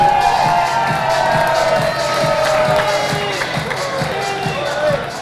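Cheers and clapping from an audience at the Gouden Zadel 2014 award ceremony in a studio in Drachten, a loud, continuous crowd roar with a regular beat of claps that fades slightly toward the end.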